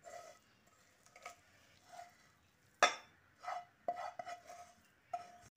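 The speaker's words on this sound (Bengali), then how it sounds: "এবার ঠান্ডা করে নেওয়া সবজিটা একটা বড় বোলের মধ্যে ঢেলে নিচ্ছি" A cooled winter-vegetable mixture for veg kebabs is poured into a large bowl and stirred, giving soft scrapes and a few sharp clinks of a utensil against the bowl in a quiet kitchen.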